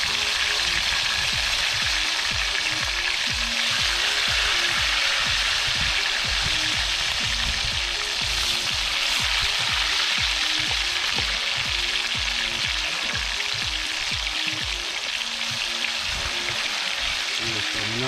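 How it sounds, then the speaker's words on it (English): Steady, loud sizzling and crackling of chicken frying in hot oil in a pot in Jamaica, continuous throughout with bubbling texture and no pauses. "You know, it's a frying time."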